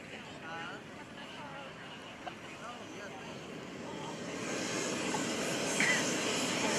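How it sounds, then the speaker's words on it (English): A radio-controlled model jet aircraft engine whooshes and roars in the distance at an airshow, growing louder over several seconds, with faint voices talking underneath. "That sounds like there's a jet airplane around here somewhere."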